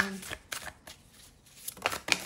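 A tarot card is drawn from the deck with quick papery flicks and shuffling swipes in short bursts, close by, with a voice speaking around them.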